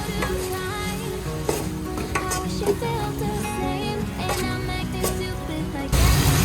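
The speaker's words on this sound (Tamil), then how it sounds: "இதெல்லாம் போட்ட ஸ்பைசஸ் எல்லாம் வெந்து கொண்டிருக்கு" Spices fry in a pan for a Sri Lankan-style biryani, a steady sizzle with scraping stir strokes and occasional utensil knocks beneath background music.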